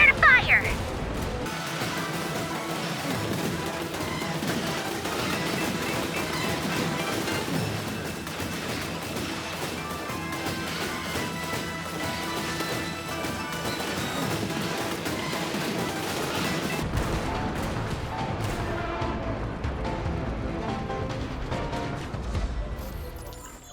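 Bosco cannons in Genshin Impact keep firing in a dense battle barrage, heavy booms and crashes layered over music and voiced shouting that run almost continuously before thinning out near the end.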